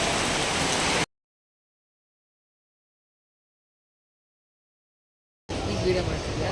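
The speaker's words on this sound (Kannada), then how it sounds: "ಮಳೆ ಬರ್ತಾ ಇದೆ" Rain falling in Dandeli, a steady, fairly loud hiss of drops that cuts out completely for several seconds in the middle, then returns just as dense.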